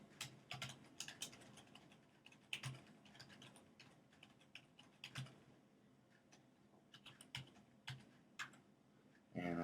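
A command being typed on a computer keyboard: quiet, irregular bursts of key clicks with short pauses between, close by and faint, with no speech.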